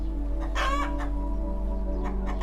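Cartoon chickens cluck and squawk in a short, close, busy burst over a steady low hum, with no voices.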